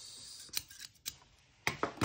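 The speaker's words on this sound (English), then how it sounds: "And then I will cut it with scissors." Scissors cut through thin brass sheet for book corners in a few quick, crisp metallic snips, close and clear against a quiet background.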